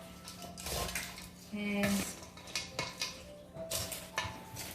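Utensils clatter and scrape against a bowl while fattoush salad is tossed, with irregular bursts of clinking close by and a brief spoken word.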